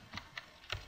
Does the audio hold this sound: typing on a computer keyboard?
yes